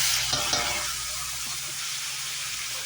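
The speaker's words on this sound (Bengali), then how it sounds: "পেঁয়াজ কুচিটা দেওয়ার পর আমি সুন্দর করে নেড়ে চেড়ে নিচ্ছি" Chopped onion sizzling loudly in hot oil with garam masala and cardamom, left from frying rohu fish, a dense continuous hiss with a couple of soft stirring scrapes early on.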